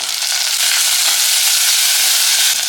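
Chopped tomato and curry leaves sauté in a hot pan, a loud, steady sizzle with a constant broad hiss and no voices.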